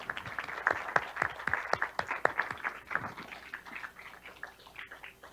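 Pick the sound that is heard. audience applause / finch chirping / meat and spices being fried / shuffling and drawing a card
audience applause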